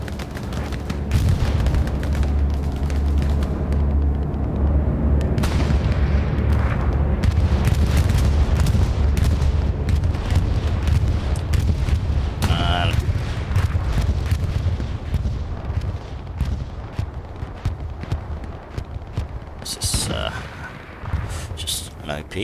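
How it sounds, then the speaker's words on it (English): Defensive bombing run in a video game: a dense, loud barrage of booming explosions and rumbling blasts rolls continuously, thinning toward the end, with a commentator talking over it. "Here comes the defensive bombing run."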